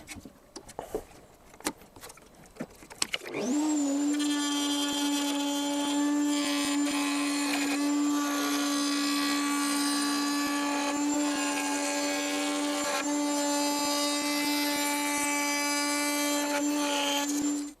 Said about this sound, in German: Jetzt stellen wir den Fräser auf diese 6 mm ein